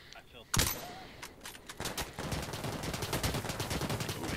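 Gunfire in Insurgency: Sandstorm opens with one sharp loud shot and then a long rapid stream of automatic fire at close range, with voices faintly under it.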